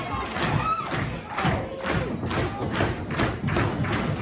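Wrestling crowd in an arena cheering and roaring steadily, with rhythmic thuds from the ring landing every second or so over the dense crowd noise.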